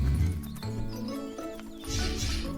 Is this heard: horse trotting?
yes